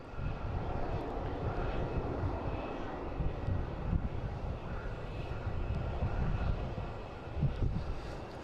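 A Spirit Airlines jet roars steadily during takeoff at Boston Logan International Airport, a broad sustained engine rumble heard from a distance without speech.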